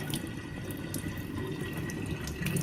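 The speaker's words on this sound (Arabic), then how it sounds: "بنحط عليهم مي سخنة كرمال ينسلقوا بسرعة" Hot water is poured from a tap over three cups of washed rice in a cooking pot for chicken mandi, making a steady, close, splashing rush that runs continuously throughout.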